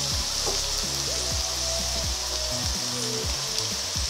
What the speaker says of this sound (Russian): Теперь пришло время сюда забросить нашу капусту.